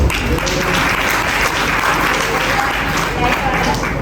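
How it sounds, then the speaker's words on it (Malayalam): An audience claps to welcome a doctor at a live church program, a loud steady burst of applause from a crowd with voices mixed in. "നിങ്ങളെല്ലാവരും ഒന്ന് കൈയടിച്ചേ."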